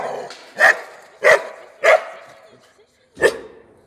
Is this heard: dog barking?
yes